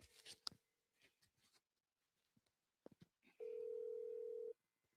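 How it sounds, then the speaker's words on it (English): A phone call is placed to an AI answering line for a real estate business, giving a steady ringback tone lasting about a second, preceded by faint clicks and soft handling noises. "So let me call my AI Alex."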